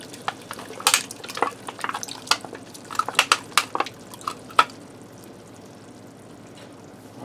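Canned diced tomatoes and V8 juice poured into a pot, giving a cluster of wet splats and drips over a few seconds before tapering off into near quiet.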